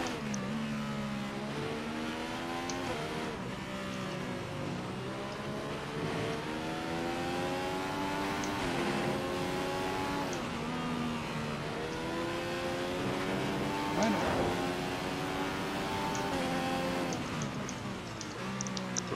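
A Formula 1 car engine in F1 2015 at the Hungarian Grand Prix revs and shifts continuously, rising and falling through gears close up and loud with no talking.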